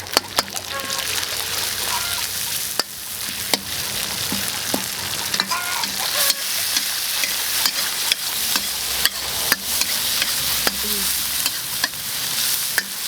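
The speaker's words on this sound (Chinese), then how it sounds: "加点姜进去， 加点豆瓣酱，炒一下" Pork intestines stir-fry with ginger and doubanjiang in a hot wok: loud continuous sizzling with sharp spatula scrapes and clanks at irregular intervals, and a faint voice briefly in the background.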